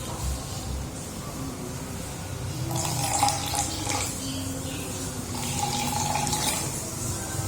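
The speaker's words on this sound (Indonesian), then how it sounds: "lalu tuangkan secukupnya sari-sari bunga bougainville." Bougainvillea flower extract pours into water in a school acid-base chemistry experiment, a steady close watery splashing and trickling that swells partway through and continues to the end, with no talking.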